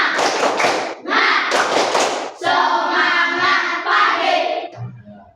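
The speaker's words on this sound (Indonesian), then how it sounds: "Mari kita tepuk semangat." A primary school class of fifth graders stands and performs the rhythmic 'tepuk semangat' clap chant, with voices chanting in unison over patterned claps in several loud bursts.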